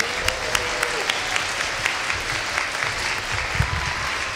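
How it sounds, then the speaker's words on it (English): An audience claps for the composer of a piece of music at a performance event, a steady wash of applause with sharp individual claps standing out, sustained at moderate loudness throughout. "give Katy a big clap for writing the piece of music"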